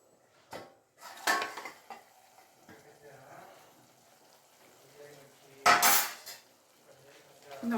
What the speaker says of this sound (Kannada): ಆಗಾಗ ಒಂದು ಸ್ವಲ್ಪ ಪ್ಲೇಟ್ ಓಪನ್ ಮಾಡಿ ಈ ರೀತಿ ಮಿಕ್ಸ್ ಮಾಡ್ತೀರಿ